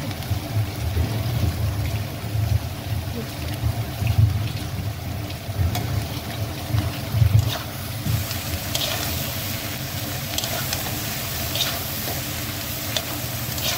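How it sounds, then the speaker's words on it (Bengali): Noodles go into a hot cooking pan: a continuous close sizzle and frying hiss, broken by intermittent stirring scrapes, with no talking. "এবার নুডলসটা অ্যাড করা যাক।"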